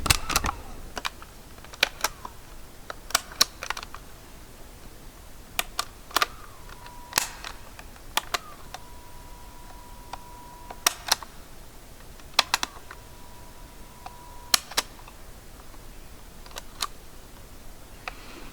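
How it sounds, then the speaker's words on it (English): Buttons on a cassette player that doubles as a radio are pressed in a string of sharp, close clicks and clunks spread across the stretch, with a faint steady tone running between some of the presses and no talking. "This is the sound of it, the buttons."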